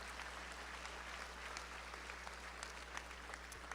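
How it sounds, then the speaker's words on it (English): An audience at a school district awards ceremony gives steady applause for elementary school students. The clapping is even and continuous but faint and distant, with no voices over it. "One more applause for our students from Grand Oaks Elementary."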